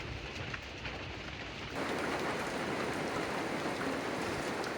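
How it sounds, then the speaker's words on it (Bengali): Steady rain pours down around a roadside tea stall near a village fair in Netrokona, a dense hiss that swells noticeably louder after the first couple of seconds and stays heavy. "বৃষ্টি শুরু হয়ে গেছে"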